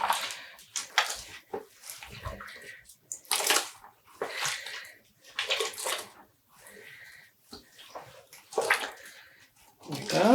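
Dyed tweed yarn being rinsed in a basin of water with zip ties attached, irregular sloshing and splashing bursts under a person talking.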